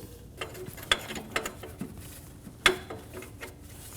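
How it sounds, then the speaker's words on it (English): Close ratchet clicks as a wrench cracks free and turns out the top serpentine belt tensioner bolt on a 2008-2015 Scion xB 2.4L L4, sharp irregular metallic ticks with a few louder snaps, no speech. "We're going to remove the top bolt for the tensioner. Crack it free and remove it."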